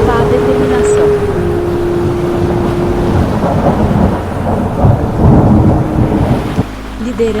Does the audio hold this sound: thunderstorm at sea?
yes